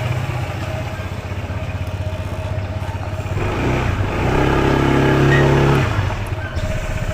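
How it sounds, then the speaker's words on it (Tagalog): A motorcycle ridden along, its engine droning steadily then revving louder as it accelerates midway, close and continuous with wind and road noise and a little rattle. "Unang sakay ni Budang sa motor, oh"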